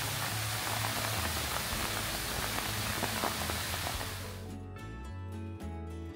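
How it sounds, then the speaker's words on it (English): Heavy rain pouring down in Suncheon, Korea: a dense, steady hiss of downpour fills the scene for about four seconds, then shifts to a quieter, more muffled patter with faint background hum. "so we're in Suncheon and it's raining"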